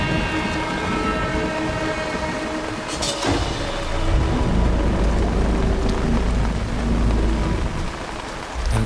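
Heavy rain pours steadily at night in a movie scene, a loud dense wash close by, with a low rumble building midway like distant thunder.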